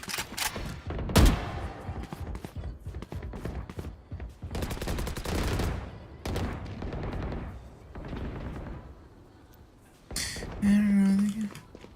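Rapid gunfire in a shooting video game, with bursts of shots and a sharp loud crack early on, the shooting recurring across the clip while people talk over it.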